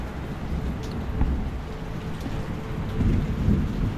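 Heavy, relentless rain pours down in a dense, steady roar, with low rumbling thunder swelling beneath it and growing heavier toward the end.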